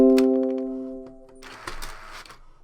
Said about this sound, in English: that's the sound of a printer